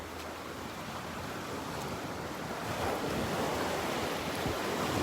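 Waves wash ashore at Delnor-Wiggins beach under constant wind buffeting the microphone, a broad continuous roar that swells a little louder midway.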